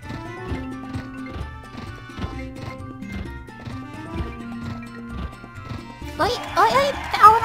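Rhythmic hoof clip-clop of a horse in the Harvest Moon Animal Parade video game, steady and even over a looping music track, with a burst of brighter effects near the end.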